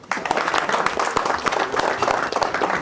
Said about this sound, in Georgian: დაუკარით ტაში ასე ცოტა ტაშს გრაფტერს ნუ ამყოფინებთ